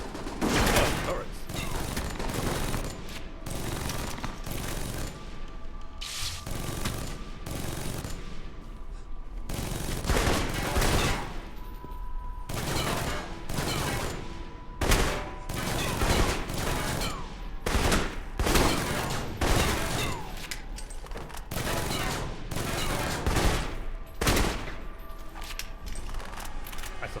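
Rapid turret gunfire in the Alpha Protocol video game, dense repeated bursts of automatic shots that run loud and nearly continuous, with a voice talking over them.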